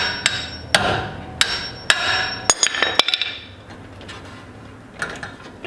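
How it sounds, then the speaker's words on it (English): A hammer strikes a manual impact driver on Phillips screws during a Kia Stinger GTS front wheel bearing hub replacement, giving about eight sharp metallic whacks, some single and some in quick pairs, then a quieter pause. "So let's just give it a couple whacks."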